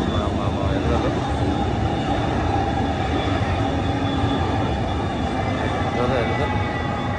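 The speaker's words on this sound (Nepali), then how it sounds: "ल आयो मेट्रो हेर्नु होला सर" An electric metro train pulls into a downtown station, a loud, sustained rumble and whine close by, with a voice talking over it.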